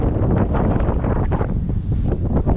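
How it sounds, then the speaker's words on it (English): Strong wind buffets the microphone in loud, continuous gusts on an empty beach in Sri Lanka, with a low rumble that could be surf beneath it. "A bit windy on the beach."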